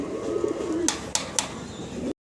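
Fancy pigeons at a seller's loft coo in a low, warbling run close by, followed by a few sharp clicks or flaps; there is no talking.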